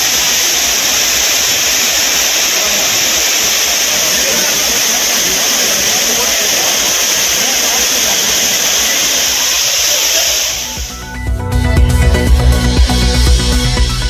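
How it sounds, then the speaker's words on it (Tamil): Water pours steadily at the Courtallam waterfalls in Tamil Nadu with a loud, unbroken rushing roar that stops abruptly near the end, giving way to a different, lower sound. "சீசன் முடிந்த பின்பும் குற்றால அருவிகளில் சீரான நீர்வரத்து."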